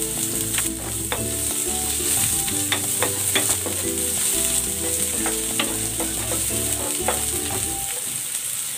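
Garlic and onion sauté in a pan for a Filipino chicken dish, a constant loud sizzle with background hum, punctuated by frequent clinking stirs of a utensil against the pan throughout.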